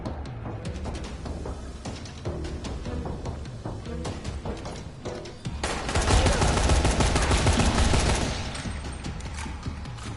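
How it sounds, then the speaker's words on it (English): Gunfire in the video game Dying Light, with rapid bursts of automatic shots and sharp mechanical clatter building into a dense, loud barrage midway before easing back to scattered shots. "I hate taking gunfire."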